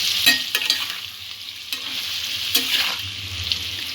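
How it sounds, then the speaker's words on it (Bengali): A spoon stirs spinach and potato curry with turmeric in a pan: a few sharp scrapes and clicks stand out over a steady sizzle, with no voices. "সবকিছু একটু ভালো করে নাড়িয়ে নেব।"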